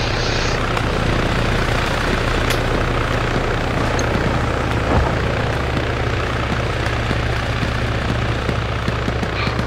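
A military helicopter in Arma 3 on Malden gives a constant loud rotor and engine drone, near and unbroken, with no voices over it.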